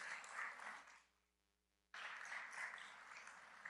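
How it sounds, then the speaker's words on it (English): Applause at a school trustees meeting honoring a group of educators, a steady wash of many hands clapping that cuts out for about a second and then resumes, moderately distant in a room. "Can we give this group of wonderful educators one more round of applause?"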